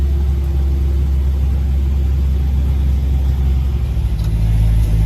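A decades-old, low-mileage truck called Fire'y 49, running after starting up: a loud, close, deep engine rumble that holds steady and swells slightly toward the end.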